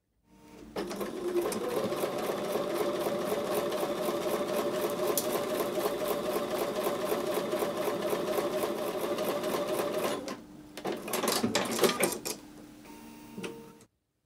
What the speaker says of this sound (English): I'm going to take these over to the sewing machine and sew with a 1/4 inch seam